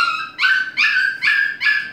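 A six-week-old puppy howls and whimpers nearby in four rising, drawn-out cries, each high and wavering, separated by brief pauses.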